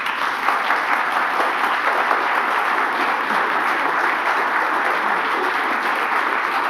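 An audience at a reconciliation panel session gives the panelists a sustained round of applause, a dense, even wash of clapping from many hands that holds steady throughout without any speech over it.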